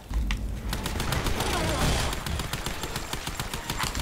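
Gunfire in the video game Lara Croft and the Temple of Osiris: dense, loud bursts of rapid shots crackle continuously throughout, with faint talk mixed underneath.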